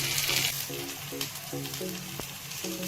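Sweet paniyaram dumplings fry in a pan with a close, steady sizzle and crackle, while a soft voice or tones sound faintly in the background.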